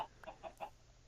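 Chickens in the Minecraft video game cluck in a quick run of three or four short, faint, evenly spaced calls with no talking.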